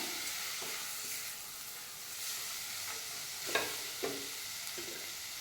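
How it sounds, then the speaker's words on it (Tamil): Green peas frying in a pan with turmeric and garam masala, giving a steady soft sizzle with a few louder scraping stirs, close and without talk. "இதிலே நம்ம பட்டாணி ஒரு சின்ன கப் அளவுக்கு போட்டுக்கலாம். அது நல்லா வதங்கட்டும்."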